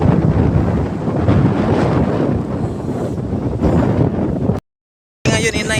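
Strong storm wind buffets the microphone at a low-tide seashore, a loud continuous roar with gusting rumble, cut off by a brief dropout before resuming.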